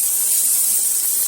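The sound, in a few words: chopped onion and capsicum frying in pan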